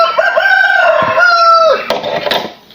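A village country rooster crows one long, loud, close call that rises and holds, then trails off into a few short clucks and rustling.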